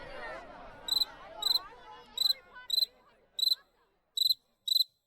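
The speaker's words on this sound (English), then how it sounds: "As you can hear, the crickets are calling." A cricket chirps at a summer camp in short, sharp bursts at a steady pace, clear and close, after some faint murmuring fades out in the first seconds.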